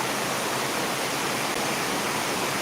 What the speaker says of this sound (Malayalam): ഇരുട്ടടച്ച് മഴ തുള്ളിക്ക് ഒരു കുടം പോലെയുള്ള മഴയാണ്